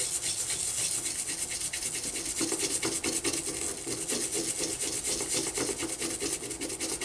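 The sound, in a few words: scrubbing Mac LC II circuit board with Goo Gone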